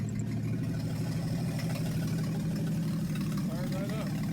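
A Jeep CJ7 engine with a freshly rebuilt carburetor settles into a steady, loud, close rumbling idle, with someone speaking over the running engine.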